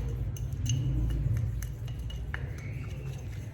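A soft toothbrush stirs toothpaste and salt together in a small bowl, giving light scraping and faint clinking taps, close and steady without any voices.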